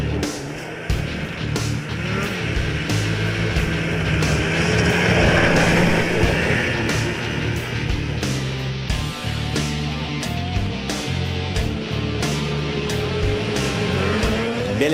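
A 2016 Polaris Adventure snowmobile engine roars steadily and loudly through the whole stretch, with some wavering in pitch as it runs along a trail.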